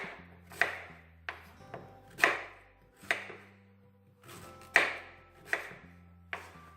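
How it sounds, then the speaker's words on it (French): A knife chops sweet potatoes into large chunks on a cutting board: about eight sharp, irregularly spaced thuds, close and clear, with quiet pauses between cuts and no talking. "on va donc les couper en morceaux, mais en gros morceaux, hein, puisqu'on va les râper en fait"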